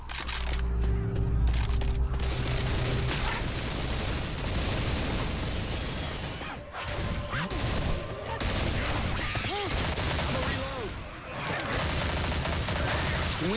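Rapid, dense gunfire in Left 4 Dead 2, continuous overlapping shots and bursts, loud and close throughout, with voices speaking intermittently under the shooting.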